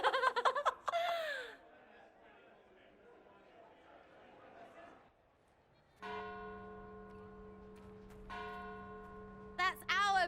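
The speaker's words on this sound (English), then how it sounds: "That's our bells" Bells ring in the video game Dragon Age Inquisition: sustained tonal peals come in a couple of bursts after a quiet stretch, with laughter and voices at the start and end.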